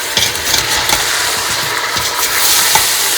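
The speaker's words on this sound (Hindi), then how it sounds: "अब इसमें देखें कि ये भून रहा है" Chicken frying with three tablespoons of fresh full-fat yogurt in a pan for Eid chicken palao, giving a steady close sizzle with stirring scrapes and soft clinks throughout.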